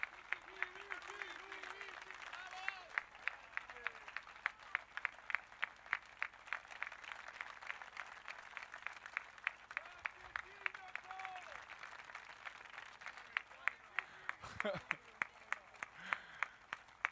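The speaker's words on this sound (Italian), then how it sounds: "E questo applauso è per il Sindaco Brugnaro." An audience applauds the mayor at the opening of a boat show. The clapping is fairly faint and distant, with distinct individual claps along the way, and voices are heard over it.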